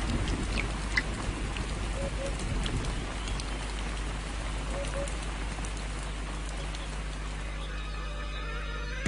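Steady rainfall pattering over a crocodile waterhole during the dry season, a dense continuous wash of drops with a low rumbling undertone, fairly loud throughout.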